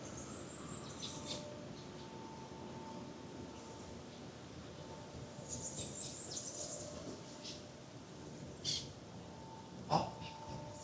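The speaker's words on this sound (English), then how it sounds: "I hear a perikichi, like a parrot" A perikichi parakeet calls in short, thin chirps against an outdoor background of steady ambient noise, with brief bright bursts appearing at a few moments, one sharper note standing out near the end.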